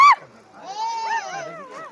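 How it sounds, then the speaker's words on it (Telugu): Indian wild dogs, or dholes, at a zoo, heard as a short sharp squeal followed by a longer wavering whistle-like whine rising and falling in pitch, fairly close, with faint background noise. "ఇది ఇండియన్ వైల్డ్ డాగ్"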